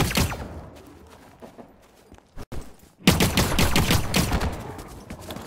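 Gunfire in the video game The Cycle: Frontier crackles in rapid bursts, dropping to scattered single shots and a brief lull before a loud, dense volley resumes.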